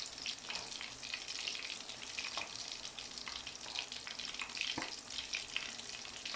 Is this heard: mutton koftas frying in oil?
yes